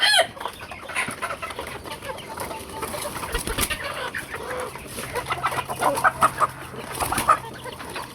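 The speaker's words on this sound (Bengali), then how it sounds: "এখানে আছে মোট ছয়টা মুরগি" Several chickens cluck and murmur nearby in a steady, scattered rhythm, with faint background noise and no talking.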